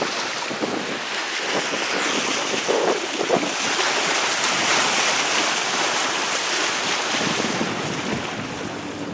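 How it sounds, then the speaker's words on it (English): Strong wind roars and buffets the microphone without letup by Lake Erie, with a broad rushing noise like surf on open water. "it is very windy over here, so I'm worried you ain't gonna be able to hear me"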